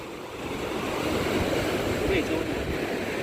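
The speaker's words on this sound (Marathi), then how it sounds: "ही वाली लाट येईल आय थिंक ही येईल" Sea waves break and wash up on Tarkarli beach in a continuous, broad roar of surf, with wind buffeting the microphone. A voice talks briefly over the surf.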